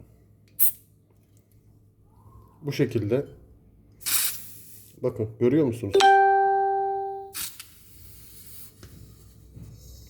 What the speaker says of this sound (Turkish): Şu anda çakmak gazındaki yani çakmak tüpündeki aşağıya dolum oluyor.